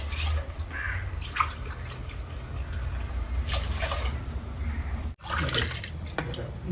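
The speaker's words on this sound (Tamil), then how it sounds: "இதுல நாலு டம்ளர் தண்ணி ஊற்றிக்கிறேன்" Tap water from four tumblers poured over two tumblers of raw rice in a pot, a steady splashing, trickling pour lasting several seconds with a brief pause near the end, close and fairly loud.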